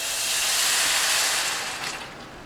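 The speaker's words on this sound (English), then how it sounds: "the steam's gonna come like crazy" Steam hisses loudly and steadily as chicken stock goes onto rice toasting in a hot pan. The whoosh stays broad and even, then eases slightly near the end.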